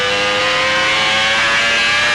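Onboard a Michael Schumacher Benetton Formula 1 car at the 1995 French Grand Prix, a high-pitched engine screams steadily and loudly at sustained revs for a couple of seconds, with no voices over it.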